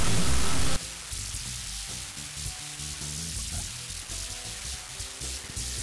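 Not Just Another Dither audio dither noise, a faint, even hiss of broadband noise running steadily after a louder opening burst, with no voices.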